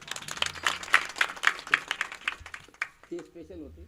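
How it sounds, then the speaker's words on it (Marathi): An audience at a village kirtan in Jalna claps in a burst of scattered, rapid applause that fades out after a few seconds, followed by a brief stretch of quieter sound. "आणि आमच्या संस्थेचे बालमृदंगाचार्य यांच्याकरता एकदा तुम्हीच टाळ्या वाजवा"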